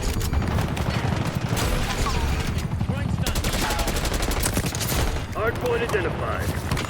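Rapid gunfire in the video game Black Ops 6, loud sustained bursts of automatic shots with brief pauses, continuing throughout alongside game sound effects.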